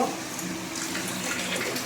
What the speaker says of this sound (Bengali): মাংসটা একটু ধুয়ে নেব।